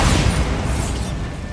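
Bombarda spell blast in the video game Hogwarts Legacy, a loud, dense rumbling burst that fills the whole short moment and trails off slightly.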